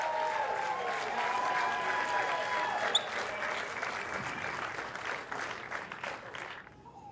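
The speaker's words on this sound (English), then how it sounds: "Let's have another round of applause for our 2 finalists." A crowd in a gymnasium at a boys' state basketball championship gives the two finalists a long, sustained round of applause. The dense clapping continues for several seconds, then fades and thins toward the end.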